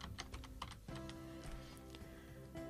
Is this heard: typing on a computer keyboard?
yes